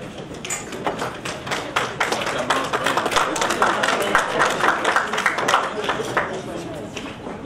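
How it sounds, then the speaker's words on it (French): Sustained applause from an audience at a press conference in Québec for a real estate brokerage regulator's recognition award, dense overlapping claps at steady loudness throughout, with faint voices mixed in the crowd. "Merci pour les applaudissements."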